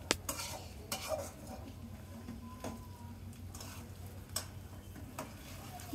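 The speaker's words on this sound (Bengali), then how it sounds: "আলুটার সাথে পেঁয়াজ এবং তেলটা খুব সুন্দরভাবে মিশিয়ে নিব" Mashed potatoes stirred together with fried onion and oil in a pan, giving quiet scraping and tapping of a utensil against the metal at an irregular pace, fairly close but soft, with no talking.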